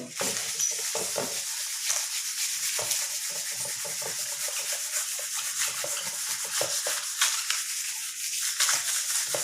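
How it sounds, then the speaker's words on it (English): Rubbing a piece of rubber: continuous close scratchy friction strokes, repeated in an uneven rhythm with no pauses, steady and fairly loud throughout. "Okay, I'm rubbing it now."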